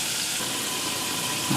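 Broccoli stir-frying in a pan gives a steady, close, loud sizzle that holds evenly throughout with no voices over it.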